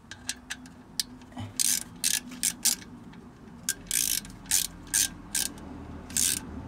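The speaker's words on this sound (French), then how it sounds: "Il faut visser tout doucement," A hand ratchet slowly tightens reinforced Ferrari clutch nuts one by one, giving short, crisp clicking bursts in an uneven rhythm, close and fairly loud against a low background hum.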